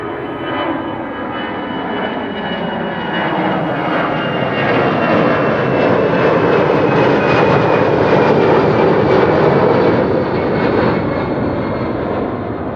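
A fixed-wing airplane landing at Amsterdam Schiphol Airport roars loudly and steadily for over twelve seconds, a broad engine rumble that swells toward the middle and eases slightly at the end, with no voices.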